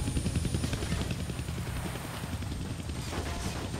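A helicopter in the Deadpool video game gives a loud, continuous, thudding rotor chop close by, throbbing without pause.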